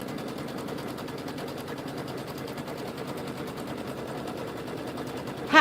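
An embroidery sewing machine stitches out a design with a rapid, even mechanical chatter of needle strokes that runs unbroken and close, ending in a brief louder clunk.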